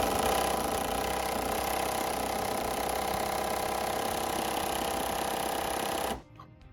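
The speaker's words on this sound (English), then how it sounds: "Trying to Sawzall this shackle bolt off now, because impact ain't gonna work." A Sawzall reciprocating saw cuts through a stubborn shackle bolt on a Chevy Nova frame, a loud, steady, rapid buzzing rasp that runs continuously for about six seconds and then stops abruptly, leaving faint quiet clatter.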